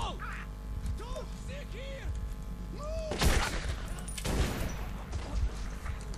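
Rapid bursts of gunfire erupt in the underground shooter game Metro 2033, loud clustered volleys following a stretch of chirping, quack-like calls.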